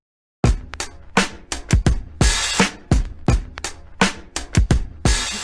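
An original old-school hip hop break beat of punchy, evenly spaced kicks and crisp snares plays loud and alone in a steady groove.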